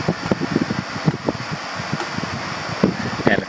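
Electric motor run from a rotary transformer on a weak shed supply, giving a steady whirring drone with a high whine on top, close to the microphone, while someone talks over it.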